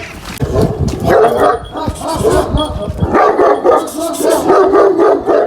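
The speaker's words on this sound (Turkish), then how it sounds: "Denizli bölgesinin meşhur köpeklerinden" Kangal dogs on a farm in Thrace, Turkey, bark repeatedly up close, loud and busy, with some voices mixed in among the barks.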